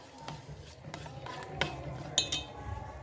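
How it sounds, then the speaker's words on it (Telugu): Cupcake batter with chocolate chips powder being mixed by hand in a bowl, close and fairly quiet, with soft scraping and a few sharp clinks of the utensil against the bowl. "సో ఇదంతా మెల్లమెల్లంగా వేసుకుని ఇట్లా బ్యాటరీని మిక్స్ చేస్తూ ఉండాలండి"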